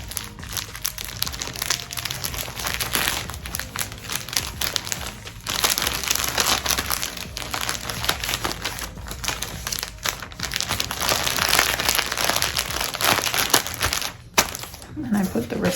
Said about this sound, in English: And then I put it in the little envelope.